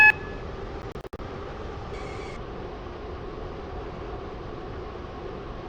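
Class 720 train in the Stepford County Railway game, heard as a faint steady interior rumble with a few short electronic beeps near the start and a brief tone partway through.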